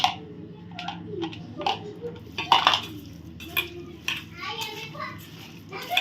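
A spoon clinks and scrapes in a bowl as chicken is mixed with a vinegar marinade, irregular taps under a voice and other speech.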